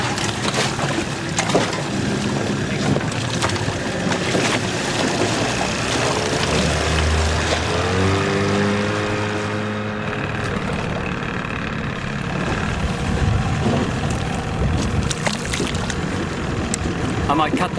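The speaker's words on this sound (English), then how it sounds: "I might cut the motor so you can hear better." A boat motor churns steadily on open water near a reef, a continuous broadband engine rumble with splashing, while people talk over it.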